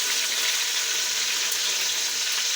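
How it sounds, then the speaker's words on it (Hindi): Onions, masala and tomatoes frying in oil for beef pulao, giving a steady, even hiss of sizzling that holds at one level from start to finish, with no talk over it. "अच्छी तरह फ्राई होने देंगे ऑयल में"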